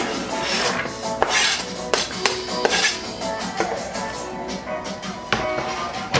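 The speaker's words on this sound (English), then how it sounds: "I'm going to toss these ingredients all into a bowl." Marinade ingredients for Jamaican jerk chicken, including a whole onion, are tossed into a bowl, making a close, busy clatter of clinks and knocks against the dish.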